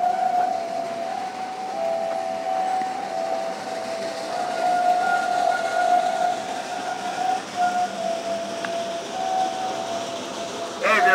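Roaring Camp steam train leaving the station, a sustained whistle tone running steadily throughout with a continuous rumbling rail background, moderately loud and fairly close, no talking.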